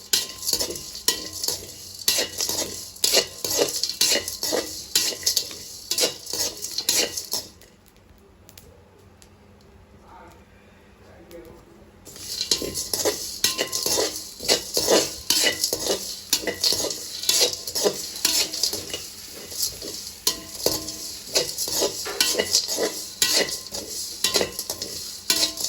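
Pepper, cumin and turmeric are stirred in a pan for Jaffna curry powder. The scraping and rustling is steady and close, stops for a few seconds midway, then resumes just as busily.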